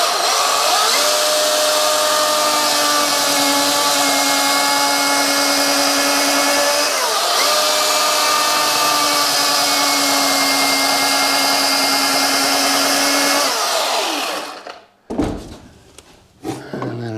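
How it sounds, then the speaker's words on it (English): A Milwaukee chainsaw makes a relief cut in a log on a log house framing job, a loud sustained motor whine held steady for about fourteen seconds before cutting out, followed by a few faint knocks. "Just gonna give her a old Milwaukee relief cut here."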